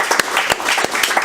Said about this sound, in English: So I think we should give you an applause.